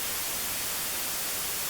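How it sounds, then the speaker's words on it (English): Steady white noise test signal run through a Tonex amp-modeling pedal, a flat, even hiss filling the whole range at constant level for under two seconds, with no other sound. "we're gonna run a white noise signal through my Tonex"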